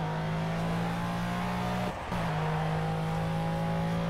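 GT3 race car in the Project Cars driving game, its engine holding a steady droning note at high revs with a brief dip, loud and continuous, with no talk.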